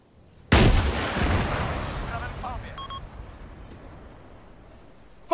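A single loud gunshot booms near the start of a firefight in the military game ARMA III, its long rumbling tail decaying over several seconds before another sharp report cuts in at the very end.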